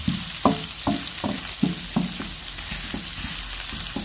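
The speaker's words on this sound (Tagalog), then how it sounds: "Yan, gisa-gisa lang po natin" Garlic, onion, chili and ginger sauté in a hot pan, a steady frying sizzle broken by about eight rhythmic knocks and scrapes of a spatula stirring the aromatics, close and fairly loud with no talking.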